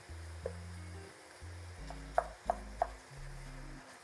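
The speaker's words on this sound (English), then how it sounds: "We're gonna move that around, give everybody some time at the bottom, really making sure that we break up that chorizo." Chorizo browns in a pan as a utensil stirs and breaks it up, giving a faint sizzle with a few sharp scraping taps against the pan, over soft background music.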